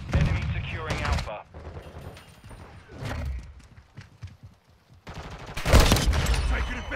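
Rapid bursts of gunfire crack in a hardcore match of Call of Duty: Modern Warfare 2, loud volleys at the start and end with scattered shots between, under occasional voice callouts.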